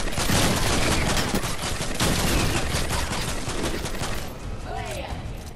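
Rapid, dense gunfire from the video game Fortnite, a continuous loud fusillade of shots that runs for several seconds, then eases toward the end, with voices talking over the shooting.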